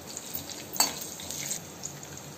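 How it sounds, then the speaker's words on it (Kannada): Mustard seeds, cumin and green chilies fry in a pan, giving a faint, continuous sizzle with light crackles and a sharp utensil clink near the start of the second second. "ಆಮೇಲೆ ಸ್ವಲ್ಪ ಸಾಸಿವೆ, ಮತ್ತು ಸ್ವಲ್ಪ ಜೀರಿಗೆ ಇಷ್ಟು ಹಾಕಿ ಇದನ್ನು ಒಂದು ನಿಮಿಷ ಫ್ರೈ ಮಾಡೋಣ"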